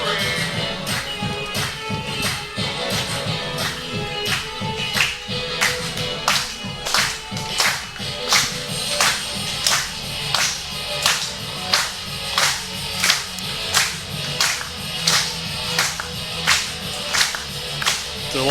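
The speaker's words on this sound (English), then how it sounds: "A lot of clapping." A wrestling crowd claps in unison at a pro wrestling event, steady rhythmic claps roughly twice per second that grow louder and sharper, with a background murmur of the crowd.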